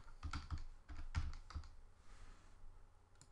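A name typed on a computer keyboard in a quiet room, a few faint quick bursts of key clicks with short gaps, close up and without talk.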